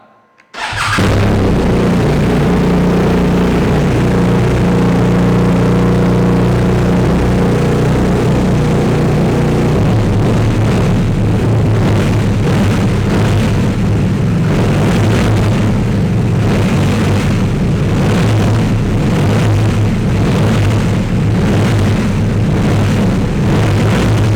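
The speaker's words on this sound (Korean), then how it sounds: "아크로포빅스 튜닝 머플러의 배기 사운드 한번 들어보고요" A 2019 BMW R1250RT motorcycle with an Akrapovic tuned exhaust fires up and settles into a loud, steady, throaty idle that rumbles on without pause.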